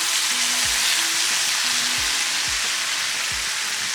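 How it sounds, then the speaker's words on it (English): Mutton kheema with chili powder and spices sizzles steadily in a pan over a medium flame, a loud continuous hiss with a few low knocks as the mix is stirred. "Saute this also for less than 30 seconds."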